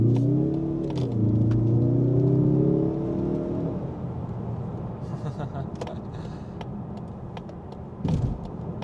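A 2025 Mazda3 Turbo's engine revs up during acceleration with a rising whine, its pitch climbing then settling into a steady drone, fairly close and loud.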